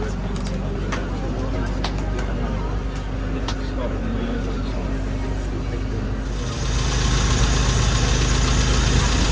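A car engine idles steadily throughout a carburetor tuning session after a needle modification, a continuous mid-pitched running drone that rises slightly in level near the end, with background activity around it.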